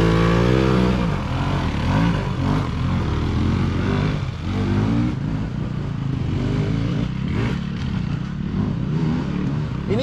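A hard enduro motorcycle climbs mountain single track in the Rockies, its engine revving up and down in repeated bursts of acceleration, loud and close throughout.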